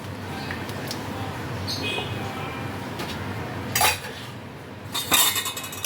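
A metal spoon stirs ghee into bitter gourd and bottle gourd dal in a pot, giving soft scraping and a few sharp clinks against the pot's side, close and clear.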